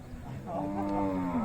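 A cow at the Bookana Betta cattle fair in 2024 lets out one long, low, close moo lasting about a second, over a faint background murmur of the fairground.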